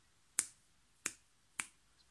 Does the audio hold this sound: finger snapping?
yes